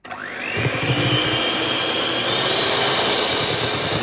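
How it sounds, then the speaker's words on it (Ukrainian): An electric mixer beats eggs with sugar for a cake batter, giving a loud, steady motorized whir with a rising whine that starts abruptly and holds unchanged throughout, with no voices. "Збиваємо міксером яйця і цукор"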